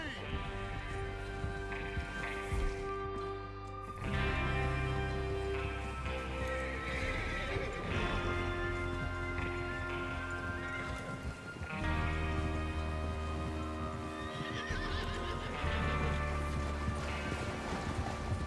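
Video game horses whinny and neigh over the clatter of hooves, set against a steady background music bed, from Red Dead Redemption 2.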